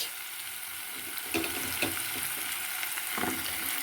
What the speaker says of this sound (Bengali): এবার এগুলো একটু হাই ফ্লেমে ভেজে নিতে হবে